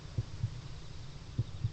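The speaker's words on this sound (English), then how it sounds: "Love the heartbeat." Heartbeat from the horror dating game Sucker for Love: two slow lub-dub pairs of soft, low thumps, steady and close, with a faint hum between them and no talking.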